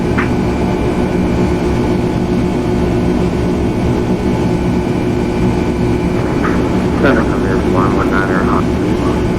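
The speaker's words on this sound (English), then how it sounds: "you're hearing the engine, that's what's so loud" Jet engine noise from an airliner in Microsoft Flight Simulator X, a loud, steady low roar filling the clip with a faint whine, while someone talks over it.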